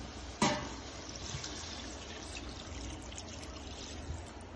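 Water poured into a pan of chicken gravy for a veg pulao meal, giving a soft, steady trickle and splash after a sharp initial clatter, continuing quietly at close range throughout.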